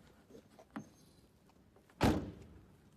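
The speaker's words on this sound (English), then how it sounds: "Turn on, open the door." A Toyota Yaris door is opened by remote key. A faint click comes first, then a single loud, close thunk of the door mechanism over quiet background hiss.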